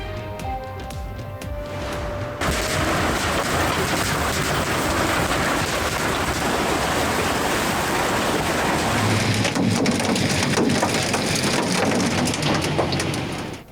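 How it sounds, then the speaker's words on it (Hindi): Hailstorm with heavy rain and thunder in Islamabad, a dense, continuous roar of rain and pelting hail that begins abruptly and stays loud throughout, with no voices. "इस्लामाबाद में गुज़िश्ता रोज की जालाबारी, तबाही के आसार बाकी।"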